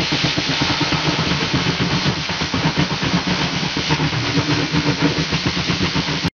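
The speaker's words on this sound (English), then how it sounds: "This is the sound of a steam engine now." An AI-generated, steady, loud mechanical chugging of a steam engine with hissing steam, a fast rhythmic churn that runs continuously without pause, then cuts off abruptly.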